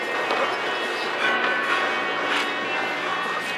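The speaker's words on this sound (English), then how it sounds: "Come on, we need to stop this train." A train rolls along in the video game Red Dead Redemption 2, a brief, steady wash of rumbling, clattering rail noise heard up close with no clear voices.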